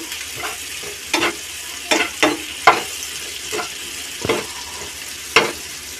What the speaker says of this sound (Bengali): তো এবার একটু ভালো করে নাড়াচাড়া করে নেব